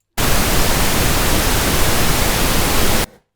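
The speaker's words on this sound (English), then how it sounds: "Here's the reference level at 0 dB. I've got some noise." A burst of loud, steady broadband test noise at a 0 dB reference level starts abruptly, holds at constant level for about three seconds, then stops.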